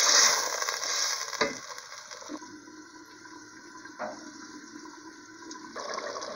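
Water splashes into a hot pan with broccoli, giving a loud hiss and steady sizzle that bubbles on and off with a few brief clatters and no talking.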